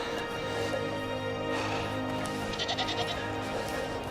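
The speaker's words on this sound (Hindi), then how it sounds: "बकरियों का झुंड।" A herd of goats bleats on a mountain walk along the Karakoram road, several overlapping calls rising and falling at moderate distance over steady outdoor background noise.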